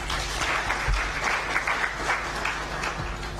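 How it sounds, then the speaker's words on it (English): An awards ceremony audience applauds at the National Integrity and Service Delivery awards in Uganda, a dense, steady clapping close by that fills the clip without pause. "Give Mr. Wim Stoffels another round of applause."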